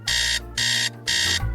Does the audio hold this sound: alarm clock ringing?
yes